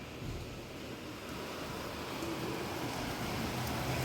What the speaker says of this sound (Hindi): बारिश बहुत खतरनाक हो रही है।